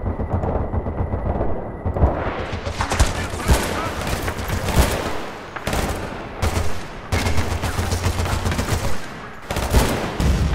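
Gunfire in the video game Battlefield: Bad Company 2 on a Bolivian map: loud, dense machine-gun bursts and explosions fire in rapid clusters with brief pauses, close and continuous.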